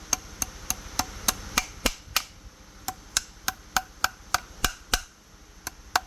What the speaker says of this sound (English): Just take your hammer, bend those nails down.